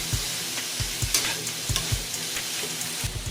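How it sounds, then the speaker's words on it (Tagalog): Chicken sautéing for adobo flakes, with steady sizzling in a hot pan and rhythmic low scraping thumps of stirring, close and clear with no talk. "Igisa na natin ito."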